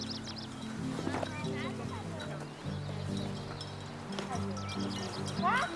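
A horse walks with steady clip-clopping hooves on the Kamchatka summer trail, joined by birdsong and chirps, while people talk over it throughout.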